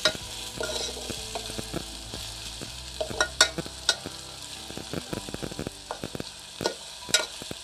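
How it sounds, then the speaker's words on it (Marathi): Onion, tomato and garlic fry in oil in a pan, with a steady soft sizzle under repeated sharp clinks and scrapes of a spoon stirring, close and moderately loud. "आपल्याला हे दोन्ही कांदा, टोमॅटो आणि लसूण एकत्र व्यवस्थित तेलामध्ये भाजून घ्यायचं आहे."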